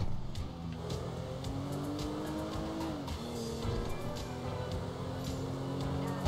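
A car engine in GTA 5 hums steadily as the vehicle drives on, pitch shifting slightly with speed, continuous and fairly close with faint tire noise.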